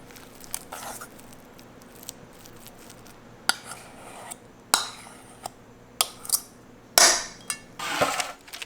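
Cream cheese and shredded sharp white cheddar get mixed in a bowl, with irregular clinks and scrapes of a utensil against the bowl, bursts of thick mashing, sparse early then faster and louder near the end, with no talking.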